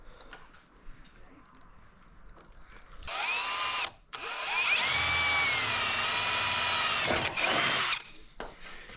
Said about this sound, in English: I'm gonna drill a small hole out there.